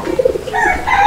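A fancy pigeon gives a short, close coo, a few soft rolling low notes followed by a rising, sustained tone.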